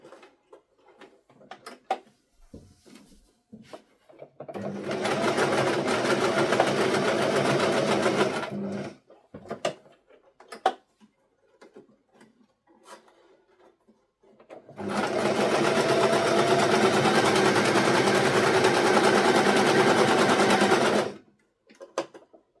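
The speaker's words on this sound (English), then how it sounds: "Just sew here and sew down. So I'll go ahead and do that." A sewing machine stitches fabric for a velcro strap in two long, steady runs of about four and six seconds each, close and loud, with clicks and handling noises of the fabric between them.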